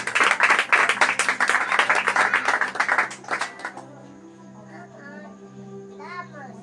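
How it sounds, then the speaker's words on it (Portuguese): A church congregation at a worship service claps together in a dense burst for a few seconds, then the clapping dies away into a sustained background tone with faint voices. "Pode bater uma salva de palmas para Jesus?"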